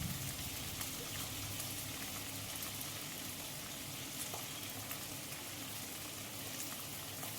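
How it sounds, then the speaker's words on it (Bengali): Pieces of chitol fish skin fry in a pan with salt and turmeric, a dense, even sizzle and crackle that holds steady at moderate loudness, heard alone with no talking. "নুন হলুদ আন্দাজ মতো দিয়ে মাছটাকে ছালটা বেশ ভালো করে ভেজে নিতে হবে।"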